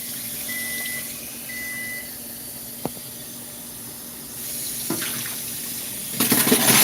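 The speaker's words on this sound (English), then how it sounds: "let me just rinse this real quick" Tap water runs steadily over a container being rinsed, a close even hiss with a brief knock partway through, then the spray grows louder and rougher in the last second.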